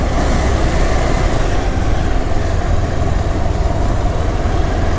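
A vehicle's engine runs steadily and loudly while driving through deep floodwater, a dense continuous low rumble with broadband wash and no pauses.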